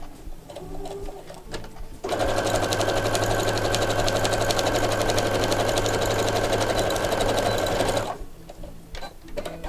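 A sewing machine runs steadily for about six seconds stitching small fabric strips onto batting, a loud even mechanical whir that starts and stops abruptly, with quieter handling noises before and after.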